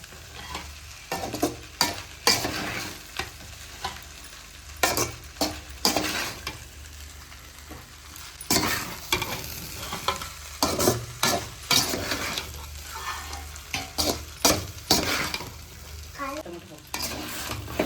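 Egg fried rice is tossed and stirred on a high flame, with loud, rapid, repeated scraping strokes of a spatula over a constant sizzle, close up and without talk.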